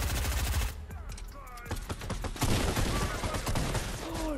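Rapid shotgun blasts in the Fortnite video game, a dense run of loud overlapping gunfire with sharp repeated cracks, mixed with game effects and occasional voices.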